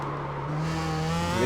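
A Star Mazda race car oversteering at Barber in iRacing, its tires squealing over a rising engine drone in a short, steady, close burst.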